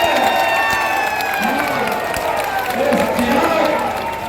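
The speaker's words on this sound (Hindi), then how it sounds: "एक बार जोरदार तालियों से इनका स्वागत करें।" Political rally crowd in Hajipur, Bihar, breaking into loud sustained applause and cheering to welcome a speaker, a dense wash of clapping with shouts and a voice over a loudspeaker mixed in.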